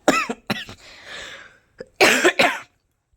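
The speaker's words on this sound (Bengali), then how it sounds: "খুব খুসখুসে কাশি হয়েছে" Several harsh, dry coughs in quick bursts, close and loud, with a raspy breath between them and short pauses of silence.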